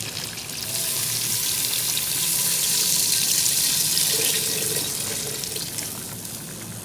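A steady rush of water pours into a pot of beef korma with browned meat, splashing continuously for several seconds at close range with no talk.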